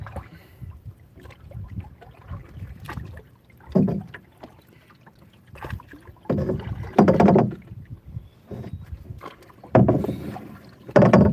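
A boat is paddled against a river current in Minas Gerais, Brazil, with irregular splashing paddle strokes that grow louder toward the end, close by and with no talk.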